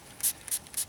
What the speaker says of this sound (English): This is like a spray.